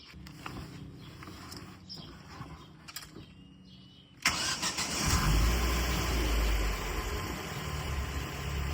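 A Ford Focus ST170 is started on the key: a few seconds of quiet cranking and clicks, then the engine catches abruptly and settles into a loud, even, smooth idle close by.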